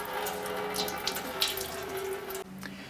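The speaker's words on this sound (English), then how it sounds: "Go ahead and drain your cooling system." Coolant draining from the radiator drain plug of a 2004-2008 Acura TL into a catch can, a steady close trickling water noise that runs continuously then drops off sharply near the end.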